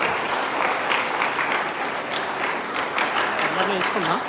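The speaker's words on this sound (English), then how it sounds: "Please give a big round of applause for all our dignitaries on stage." A crowd at a ceremony for dignitaries on stage claps steadily in a dense, sustained round of applause, with voices murmuring underneath toward the end.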